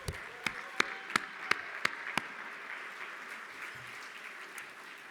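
Luncheon guests at a city livability awards event applaud small-city mayors honored for their work, a soft, even wash of clapping with several crisp individual claps popping out early, then fading into a quieter patter.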